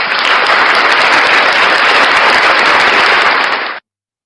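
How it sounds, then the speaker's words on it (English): Loud, continuous applause from a crowd, a dense uniform burst of clapping held for nearly four seconds before cutting off to silence. "round of applause for Blackheart Knight"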